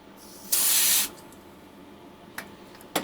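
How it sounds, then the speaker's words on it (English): A short burst of cold spray aerosol hits a radio filter in a 1938 DeForest 7D832 receiver, a loud hiss lasting about half a second, followed by a couple of faint clicks. "I'll give this just a little shot of cold spray"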